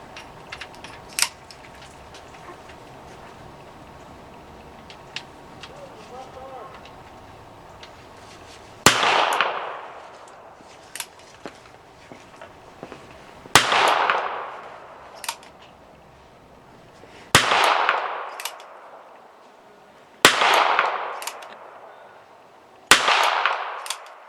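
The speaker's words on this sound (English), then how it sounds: "we're just gonna shoot a few rounds here" Ruger Wrangler .22 LR revolver fired at an outdoor range, five sharp cracks spaced a few seconds apart, each with a short ringing decay, after a quieter stretch of faint clicks and handling.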